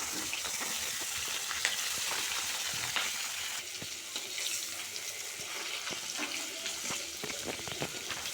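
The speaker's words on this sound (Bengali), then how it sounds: "তো মাছ ভাজা চাপিয়ে দিয়েছি" Bhetki fish pieces and a couple of prawns fry in a pan with a continuous crackling sizzle, close and even, with small pops and faint watery sounds over the stretch.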